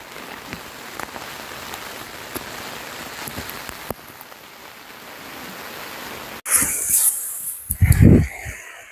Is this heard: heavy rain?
yes